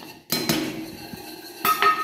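A spoon scraping and knocking against a metal pan while besan is stirred, a few sharp clinks and scrapes over quiet gaps, close and moderately loud.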